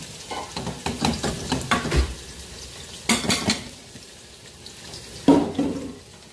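Garlic going into a pan where onion is already sautéing, with quiet sizzling under repeated scraping and clinking strokes of a stirring utensil against the pan.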